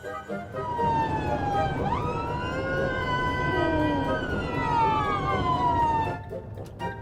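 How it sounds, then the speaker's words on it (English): An ambulance's wailing emergency siren rises and falls steadily over several seconds, fairly close and loud, with a low rumble of traffic or engine beneath it. "Fed up of hearing sirens now."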